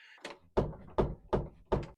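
A sagging door thumps against its frame at the upper corner, four solid knocks at a steady pace, close and fairly loud, with a faint softer tap just before them.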